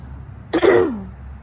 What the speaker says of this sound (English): I don't mean to cough or clear my throat or anything in front of y'all